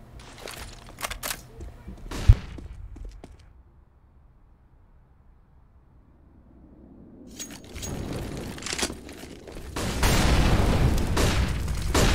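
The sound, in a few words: gunfire and explosions in a first-person shooter video game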